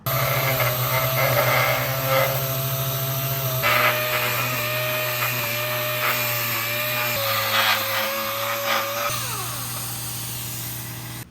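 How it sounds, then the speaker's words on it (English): A DA sander works 320-grit paper over a car panel being prepped for paint, a steady close whirring drone with shifting pitch as pressure changes, running continuously and cutting off near the end. "I gotta sand this bitch down in order to paint it"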